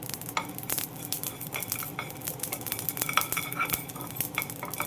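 Mustard seeds spluttering and frying in hot oil for an amla (Indian gooseberry) pickle, a dense steady sizzle studded with sharp crackling pops throughout, with no talking.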